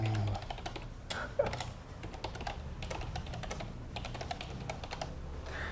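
Computer keyboard keys struck in quick repeated bursts, mostly the Enter key, with sharp clicks scattered over a steady low hum throughout.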